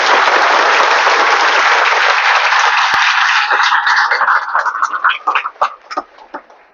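Loud clapping rings out from a gathered audience at a stress-management and meditation session, a dense burst that thins into scattered separate claps before fading.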